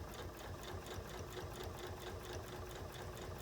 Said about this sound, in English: So I can just go ahead and start stitching with my walking foot.